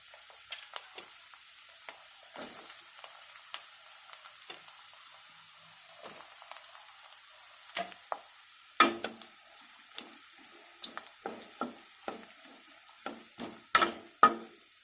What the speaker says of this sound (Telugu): ఈ అల్లం ముక్కలు బాగా ఫ్రై చేసుకుందాం.